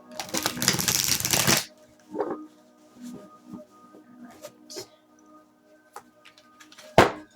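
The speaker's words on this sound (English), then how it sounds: "Let me finish shuffling here." Tarot cards being shuffled on a table, with a burst of dense riffling up front followed by scattered soft card taps and slides, ending with one sharp snap.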